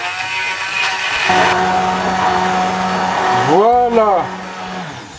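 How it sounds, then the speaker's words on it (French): A kitchen blender purees a creamy watercress soup, whirring loudly and steadily before its motor pitch sweeps up and then winds down as it is switched off, with a brief spoken word near the end. "Allez, c'est parti pour le mixage."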